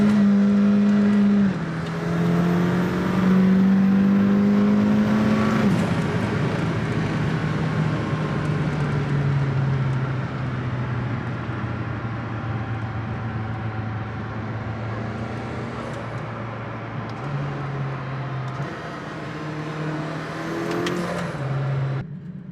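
Hypercars including a Lamborghini Diablo and Pagani Zonda S driving along a Mediterranean coastal road in Croatia, loud engines revving and shifting through gears nearby, with sustained engine drone and a passing car.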